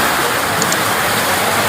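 Heavy rain pours down steadily in a town market setting, a dense continuous hiss of falling water at close range with no break and no voices.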